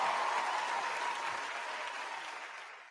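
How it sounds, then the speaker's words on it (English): A town hall audience gives a steady round of applause for a speaker named Jamie, dense clapping filling the room for about three seconds before tapering off at the end. "Round of applause for Jamie"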